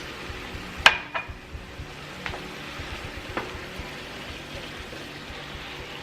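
A corn and tomato sauce mixture is stirred in a pan on the stove, with a few sharp utensil knocks and scrapes over a soft, continuous sizzle, fairly quiet and close, with no talk.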